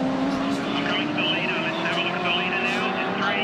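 A V8 308 engine in a heritage touring car drones steadily at high revs through a race, loud and continuous with a wavering pitch and no break.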